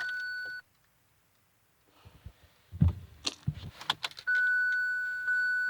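Keys jangle and click as the ignition is turned in a 2017 Kia Sorento that won't start, with dashboard chimes beeping before and after, close up and with no engine crank.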